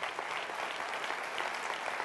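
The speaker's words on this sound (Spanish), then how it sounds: "¿Cuánto le da un fuerte aplauso a Dios por eso?" Steady applause from a church congregation, dense and continuous clapping filling the space at moderate distance throughout.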